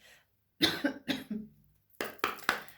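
Several short coughs and throat-clearing bursts from an itchy throat, close to the mic, in two quick clusters with a pause between them.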